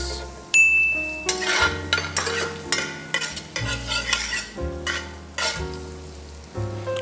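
Garlic and onions sauté over high flame in a pan, stirred with a wooden spoon. A steady sizzle runs under repeated close scrapes and light clinks of the spoon against the pan, with no talking.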